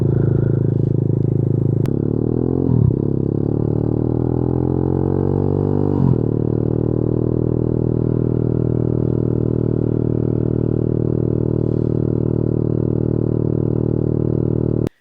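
A Boom Vader Grom clone motorcycle running steadily on a test ride, its engine droning loud and close with a couple of brief shifts in pitch, no talk over it.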